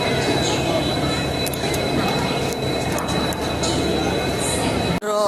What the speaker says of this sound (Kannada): ಫೈನಲಿ ನಮ್ಮದು ಟ್ರೈನ್ ಬಂತು, ಪಂಚಗಂಗಾ ಎಕ್ಸ್ಪ್ರೆಸ್ಸು.